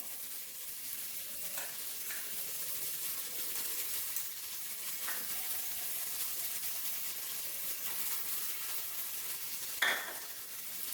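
Ginger garlic paste sizzles steadily in a hot pan, a soft continuous frying hiss with a few light stirring scrapes and one sharper clink near the end, quiet and close with no talking.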